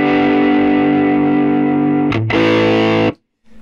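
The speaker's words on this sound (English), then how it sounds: "Just put the distortion control on and see what happens." Electric guitar played through a VS20C amp with its distortion on and the preamp turned up full: a thick, buzzing sustained chord, a brief break, then a second held chord that cuts off abruptly into silence.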